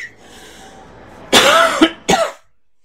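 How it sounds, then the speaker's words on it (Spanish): A man lets out a few harsh, loud coughs close to the microphone, two rough bursts after a quiet stretch, during a Demon's Souls gaming session. "me entra la tos ahora."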